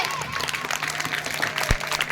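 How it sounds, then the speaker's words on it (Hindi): A school annual day audience claps for a comic politician act, a short burst of crowd applause with a voice over the clapping. "और जोरदार तालियां हमारे नेताजी के लिए।"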